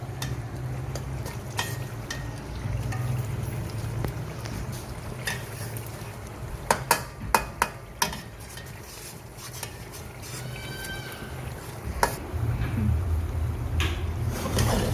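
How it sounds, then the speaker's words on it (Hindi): Tomato paste roasting in a kadai for besan bailay salan, stirred with a spoon: steady low frying hiss with scattered scrapes and a short run of sharp metal clinks against the pan midway, no talking. "देखें इस तरह से बिल्कुल बहुत अच्छी भुनाई कर लें टमाटर की।"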